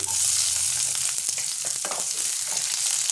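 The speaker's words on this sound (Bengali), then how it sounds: "পেঁয়াজটা একটু লাল লাল ভেজে নেবো।" Chopped onion frying in hot oil with bay leaves, whole garam masala and cumin seeds: a loud, even sizzle and hiss near the pan, alone without talk.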